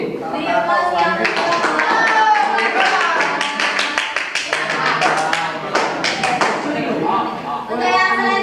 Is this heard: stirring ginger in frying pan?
no